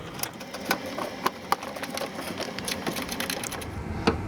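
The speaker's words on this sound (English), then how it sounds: "We're just going to set our screws here." A power screwdriver sets screws on the headlight assembly of a 2004 Chrysler Town & Country minivan, a low continuous buzzing and grinding with small clicks, close and fairly steady.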